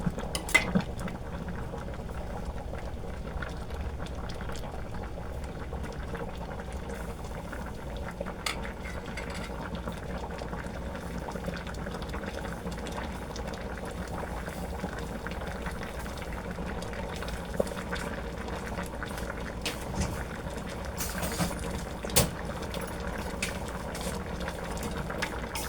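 Tuna simmers in coconut milk, a continuous close bubbling and gentle popping that stays steady throughout with small occasional spikes.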